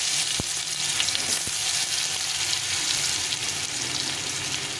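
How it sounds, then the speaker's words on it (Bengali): Potatoes frying in a pan with dry red chilli and cumin seeds, making a dense continuous sizzle up close, with two sharp knocks near the start. "তো আলুটা একটু ভালো করে ভেজে নিতে হবে"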